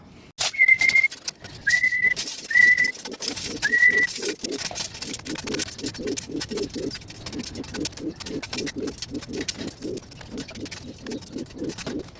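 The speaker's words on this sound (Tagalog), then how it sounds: "So yun mga kalapatids, tapos na tayo magpalipad at magpakain ng ibon." Pigeons in a home loft after flying and feeding, with a few short whistle-like calls early on, followed by a steady rhythmic run of soft pulsing coos or wingbeats. A moderately close, continuous bird sound with no speech.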